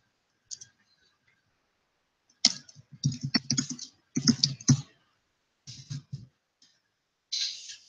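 Irregular bursts of keyboard clacking, typing in quick flurries separated by short pauses, fairly close and moderately loud.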